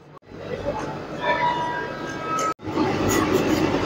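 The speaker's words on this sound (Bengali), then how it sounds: "বেশিক্ষণ স্টপও নেই, ট্রেন ছেড়ে দেবে" The Sahid Express at Prantik station, a loud rumbling train noise with a sustained siren-like tonal whine rising in the middle, cut by two brief dropouts.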